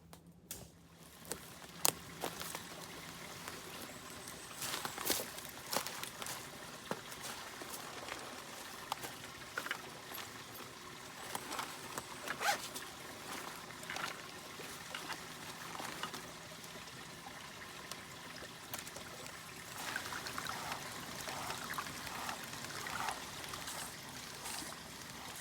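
A water bag being filled at a forest stream during a solo overnight camp, with steady rushing and trickling water running throughout at a fairly even level.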